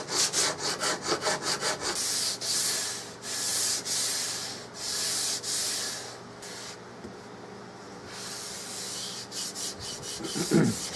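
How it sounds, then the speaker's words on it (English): Hand sanding the edges of a Remington 700 rifle stock in Mannlicher conversion with 220 or 320 grit sandpaper, a run of quick rhythmic rasping strokes followed by longer sweeping passes and brief pauses, close and alone. "And I do it the very last thing with 220 or 320 paper."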